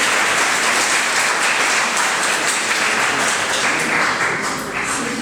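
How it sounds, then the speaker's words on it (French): A conference audience in a congress hall in Arles claps loudly and continuously, a dense, even wash of applause lasting throughout with a slight fade at the end. "allez, applaudissez-la"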